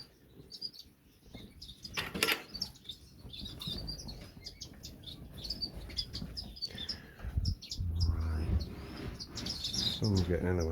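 Small birds in an aviary chirp and tweet in quick, scattered bursts over a busy background of rustling, wing flutters and handling noise. A low hum comes in near the end.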